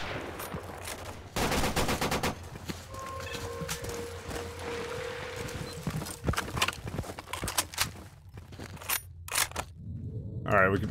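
Gunshots in STALKER: Call of Pripyat come as scattered sharp bursts and single cracks between quieter moments, with people talking over parts of the firefight.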